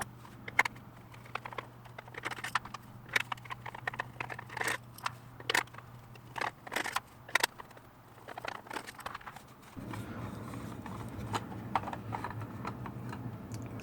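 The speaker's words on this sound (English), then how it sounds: "I'm going to take off 4 screws here." Four screws being taken out of Eachine EV800 FPV goggles, a string of close, sharp clicks and small scraping taps in irregular bursts. A steady hum joins in partway through.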